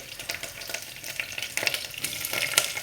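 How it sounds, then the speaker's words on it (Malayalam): Curry leaves fry in hot oil after mustard seeds have popped, giving a crackling, spitting sizzle that builds in intensity with scattered sharp pops, heard close and alone. "ആ കടുക് പൊട്ടി കഴിയുമ്പോഴത്തേക്ക് കുറച്ച് കരിവേപ്പിലിടാം"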